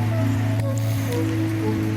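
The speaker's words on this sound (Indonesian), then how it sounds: "Hanya ada suara hujan yang semakin deras." Heavy rain pours down as a steady, close, dense hiss, with soft sustained musical tones beneath it.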